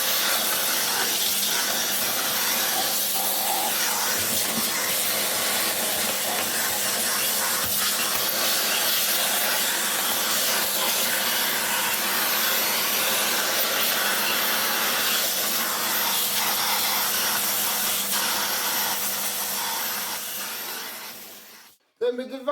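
A vacuum cleaner cleaning hair off brush rolls gives a steady, loud broadband hissing roar that runs unbroken for about twenty seconds, then cuts off abruptly with a few clunks at the end.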